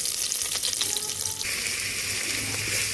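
Curry leaves and garlic sizzling in hot coconut oil, a dense close crackling fry that brightens into a stronger sizzle halfway through, with no voices.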